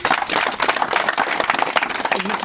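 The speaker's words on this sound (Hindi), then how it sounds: "ताली मारना चाहूँगा" Audience applause at a public gathering in Jharkhand (Hutri, Talla, Chanho) with Chitranjan Oraon: dense, continuous clapping from a crowd, loud and close, with scattered voices mixed in.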